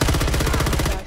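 Automatic gunfire in Call of Duty Modern Warfare III, one loud, rapid burst of evenly spaced shots lasting about a second before cutting off.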